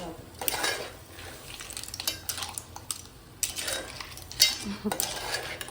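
Clam shells rattle and clink in a pot as they steam without added water, giving irregular bursts of hard clattering throughout.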